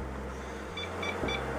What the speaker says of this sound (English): There's some beeping going on.